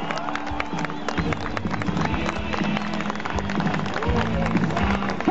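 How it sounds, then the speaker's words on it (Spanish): Outdoor crowd applauding at the Corona Rally Mexico 2011 podium ceremony in Guanajuato, dense continuous clapping and cheering mixed with a loud announcer's voice and background noise. "Un fuerte aplauso para ellos."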